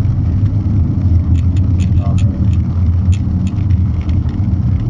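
Car driving through a field, a steady loud engine rumble with bumpy low-end surges and faint clicks, heard from inside the vehicle.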